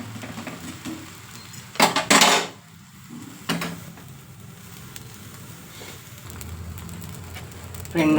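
A wheat flour dosa is flipped on a hot pan, giving a short burst of metallic scraping and clatter from the spatula, then a second brief scrape over a quiet, low background hiss.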